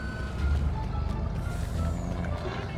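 A truck reverses in Farming Simulator 19, with a steady low engine rumble and a faint beeping reverse alarm running throughout.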